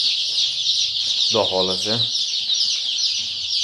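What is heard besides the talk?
Andijan black chickens and chicks clucking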